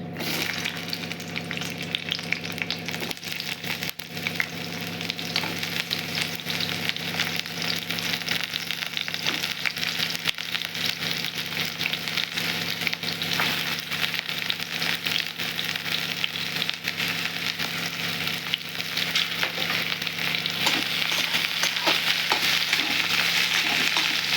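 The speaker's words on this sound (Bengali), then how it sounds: "তেলটা বোধহয় গরম হয়ে গেছে, পটলগুলো একটু দিয়ে দিই।" Pieces of pointed gourd (potol) fry in hot oil in a home kitchen, giving a loud continuous sizzle with a little stirring. The hiss stays steady for the whole length and grows slightly stronger toward the end, with no talking.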